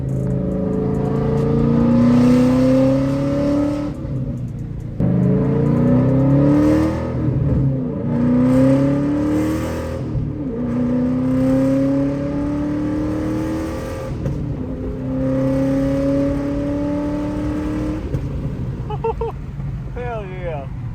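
A 2014 Mustang GT fitted with a DSS aluminum one-piece driveshaft accelerates hard through several gears, each rising engine pull dropping at a shift. The sound is heard from inside the car, with occasional talk.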